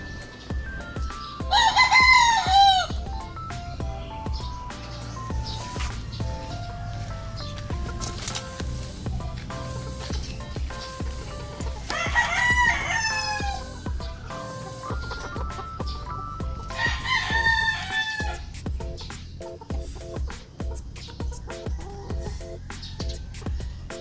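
A five-month-old Super Sweater stag rooster of Yellow-legged Hats bloodline crows three times, loud and close, at even intervals, with steady farmyard background noise between crows.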